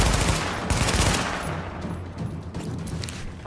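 Rapid submachine gun bursts in Tom Clancy's The Division, dense crackling fire loud at the start and continuing in quicker, thinner bursts with booming low impacts underneath.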